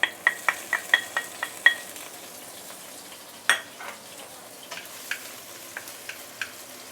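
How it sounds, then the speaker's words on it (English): Fresh herbs being sautéed in hot oil while making a Malaysian curry paste: a soft sizzle underneath a run of sharp, regular metal utensil clinks against the pan, then sparser scraping taps, close by. "you can saute the fresh herbs."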